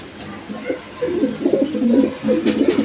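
A pair of new adult homer pigeons coo nearby in repeated low, warbling bursts, quiet at first and then a steadier run of throaty rolling calls without any voices.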